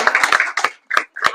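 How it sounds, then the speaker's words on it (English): A few people clap in short irregular bursts at a school event, close and sharp, stopping and starting across barely over a second. "please give a round of applause to Ms."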